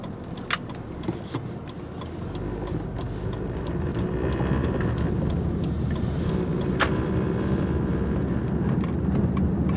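A car driving along a road past a bookstore, a steady engine and road rumble that builds slightly and holds, with a few faint clicks and jangles inside the cabin and no talking.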